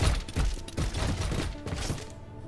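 Rapid gunfire from a shooter in Girls' Frontline 2, a dense run of thudding shots with a fusillade character, fairly loud and continuous for a couple of seconds.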